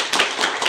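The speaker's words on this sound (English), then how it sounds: "Let's give them a clap." A short burst of audience clapping in a classroom workshop setting, with a few distinct clap peaks standing out in the brief, close applause.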